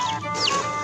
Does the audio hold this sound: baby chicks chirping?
yes